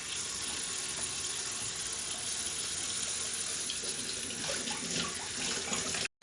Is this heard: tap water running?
yes